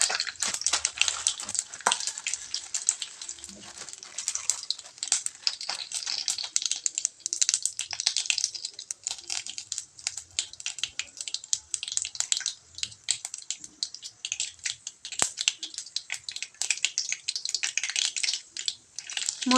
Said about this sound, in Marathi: मोहरी छान तडतडल्यानंतर त्यामध्ये जिरे टाकलेत